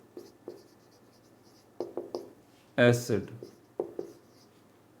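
Pen strokes scratch across paper in short bursts while an organic chemistry lesson is written out, near and fairly clear, with someone speaking briefly in the middle.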